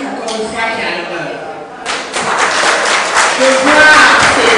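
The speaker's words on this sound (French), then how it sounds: "Alors, ce soir, je vous demande d'abord de vous applaudir" An audience applauds at the Chicago premiere of the film Les Tresseuses, a dense burst of clapping that starts partway through and builds to a loud, steady roar after a quieter stretch with faint voices.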